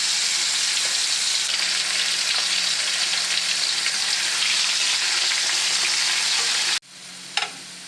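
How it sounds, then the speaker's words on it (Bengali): Potatoes frying in a pan for a radish and prawn dish produce a steady, dense sizzle that cuts off abruptly near the end, followed by quieter frying and a single faint clatter. "প্রথমে আমি আলুগুলো ভেজে নিলাম।"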